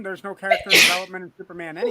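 One quick sneeze bursts out in the middle of a lively podcast conversation, with voices talking before and after it.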